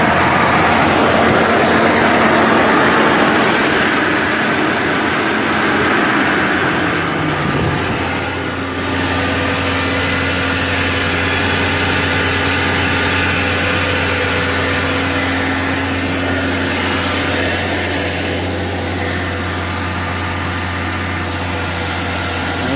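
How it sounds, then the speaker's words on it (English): A 1998 Toyota engine idles steadily after starting, a loud continuous hum with a low drone and a faint shift partway through, with no talk. "Oh, started right up. Just like any Toyota should."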